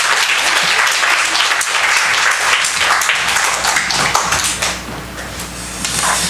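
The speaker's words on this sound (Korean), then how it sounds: "박수로 우리 또 환영합시다." A church congregation gives a missionary a warm round of applause as he comes forward to preach. The clapping is loud and close at first, then thins and softens toward the end.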